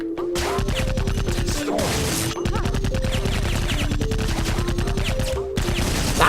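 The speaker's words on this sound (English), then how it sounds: "Stop shooting at me." Rapid video-game gunfire in Iji shooting at the player: dense, loud bursts of repeated shots over a driving background tone, nearly continuous with short gaps.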